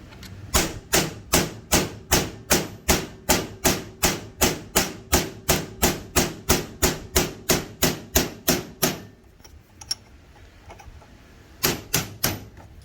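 A hammer taps a tool onto a stripped brake caliper bolt on a 2009 ZX6R motorcycle, giving a steady fast run of about twenty sharp metallic strikes, then a pause and a few final hits, close and loud.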